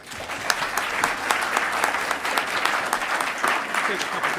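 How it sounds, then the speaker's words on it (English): Audience applause after a university president's speech at a Rotary club gathering, a dense, steady patter of many hands clapping at close range, sustained evenly throughout with no talk. "we had to cut off the applause"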